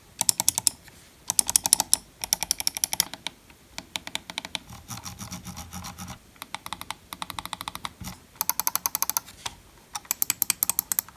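Razer Basilisk X Hyperspeed wireless gaming mouse buttons clicked in quick bursts of sharp, close clicks separated by short pauses.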